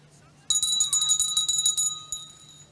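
A bell rung repeatedly for the bell lap at a state track and field championships, a bright ringing clang sustained for about a second and a half, then one more brief strike, over a steady background hum.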